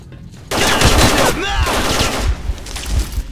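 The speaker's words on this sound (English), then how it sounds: "They're shooting." Enemy gunfire in the video game S.T.A.L.K.E.R. Call of Chernobyl, modded: a dense burst of rapid shots rattles close and loud for most of the stretch, with an excited voice exclaiming over the firefight.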